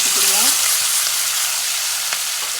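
Dried chillies, curry leaves and ground paste sizzle and crackle in hot oil in a pan, a steady loud frying hiss with occasional stirring scrapes, while a voice briefly speaks at the start.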